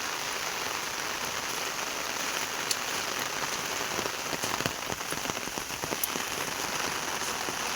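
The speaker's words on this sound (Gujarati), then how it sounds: "તો મિત્રો વરસાદ પડી રહ્યો છે છતાં પણ અમે દુકાને જઈ રહ્યા છીએ।" Steady rain falls and patters on surfaces nearby, a dense even hiss with scattered louder drips, no voices.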